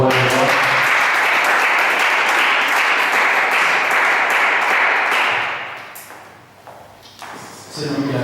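A church congregation applauds loudly and steadily for about five seconds, then the clapping thins out and fades, with a brief swell again near the end.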